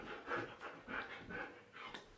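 Dogs pant in quick rhythmic bursts, close and fairly soft, with no talk over them.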